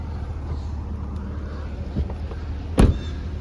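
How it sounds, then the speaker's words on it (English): Power folding mirrors on a 2019 GMC Denali XL with AWD and a 6.2 V8 give a brief motor whir ending in a sharp click, heard over a steady low vehicle hum. "Got our power folding mirrors."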